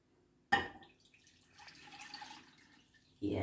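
Panna cotta mixture poured from a pan into a container in a kitchen: a sudden liquid splash, then a soft, trickling pour that fades before a second burst of pouring at the end, close and fairly quiet.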